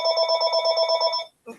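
A telephone rings with a steady warbling electronic trill lasting just over a second, loud and close, then breaks off abruptly before a brief voice is heard.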